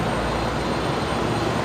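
An Alliance Airlines Fokker 70 in special livery roars at an airport at night, a loud, continuous broadband engine rush with no talk over it.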